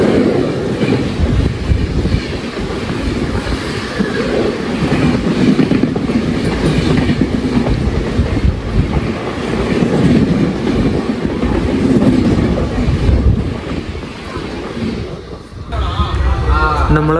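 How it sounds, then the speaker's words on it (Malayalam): The Nellai Superfast Express, running from Tirunelveli to Chennai Egmore, rumbles past close by with a loud, sustained roar and rhythmic wheel clatter while voices are heard over it. "തിരുനെൽവേലിയിൽ നിന്ന് ചെന്നൈ എഗ്മോർ പോകുന്ന നെല്ലായി സൂപ്പർ ഫാസ്റ്റ് എക്സ്പ്രസ് വരുന്നുണ്ട്."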